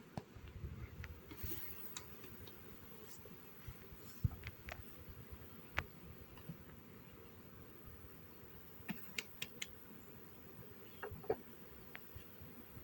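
A soft, constant hum of honeybees buzzing close by at an apiary hive, with faint scattered ticks and clicks over the drone.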